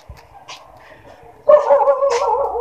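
A dog barks and yips nearby in short bursts, a couple of faint yelps followed by a louder, sustained whining bark near the end.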